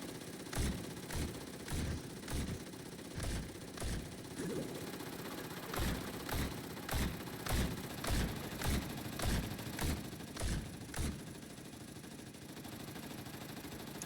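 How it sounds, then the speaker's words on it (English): In the video game Tower Defense Simulator, a tower firing at maximum rate gives off a rapid series of sharp shots in quick bursts over steady background noise, with a short lull near the end. "This is the fastest firing tower possible in TDS."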